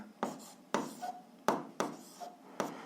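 Pen writing out the answer to a seventh-grade algebra exercise, quick scratchy strokes with sharp taps every half second or so, close and clear with no talking.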